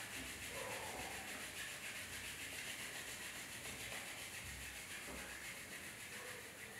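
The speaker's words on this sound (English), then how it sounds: "palming, just rub your palms each other" Palms rub briskly together to warm them during a home yoga eye-relaxation exercise. The result is a continuous soft, close friction hiss with an even level and no pauses.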